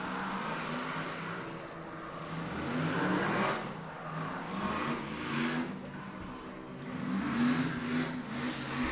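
A Nissan R34 drift car, Monster Energy liveried, revs hard during a drift competition run, its engine roaring and surging in waves with tyre noise, loud and sustained throughout.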